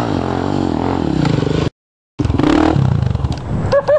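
An engine roars hard at a motocross event, loud and close, with a harmonic whine from the motorcycle that cuts out briefly and then returns, climbing in pitch as it accelerates.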